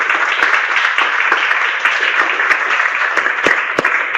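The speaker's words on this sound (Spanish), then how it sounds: "Felicitaciones, Jaime, le damos un aplauso" A small audience applauds at the close of a business communication seminar, a steady, moderately loud patter of many hands with a few sharper claps standing out.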